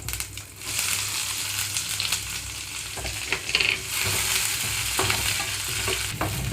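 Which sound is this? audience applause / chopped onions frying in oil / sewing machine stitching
chopped onions frying in oil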